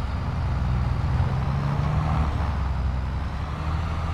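An old FMC truck with a stovepipe exhaust pulls away in a farming video game, giving a steady, loud low diesel drone with a rising engine tone throughout.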